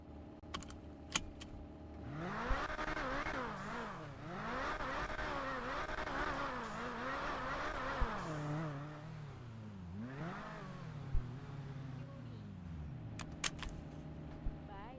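A car engine hums and rises and falls through repeated revs and gear shifts while driving, moderately quiet, with a few sharp clicks at the start and end.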